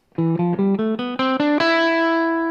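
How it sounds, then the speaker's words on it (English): Eight quick ascending notes on a distorted electric guitar trace an octave of the E Phrygian mode, the last note held long and slowly fading. Nobody speaks. "This highlighted section is E Phrygian, and that sounds like this."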